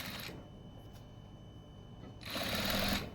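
A sewing machine stitches a hem with piping inserted. A quick burst of rapid, whirring needle chatter opens the passage, a quiet pause follows, and a longer, louder run of fast stitching comes at the end.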